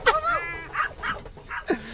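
A dog gives a quick series of short, high yips and whining barks, close and fairly loud, spread across about two seconds.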